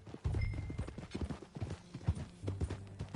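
A horse's hooves clip-clop steadily in a video game, a quick rhythmic run of muffled thuds at moderate loudness with a low ambient rumble and no clear talk.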